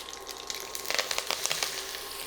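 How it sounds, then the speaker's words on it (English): Sliced red onion and torn curry leaves hit a hot pan, giving a bright, close sizzle that swells into a burst of crackling spits before settling into a steady hiss. "To that, we're going to add in our onion and a few leaves of curry leaves."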